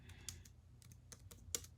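Keys on a computer keyboard click in a quick irregular patter, a few sharper taps standing out, close and fairly quiet with no talking.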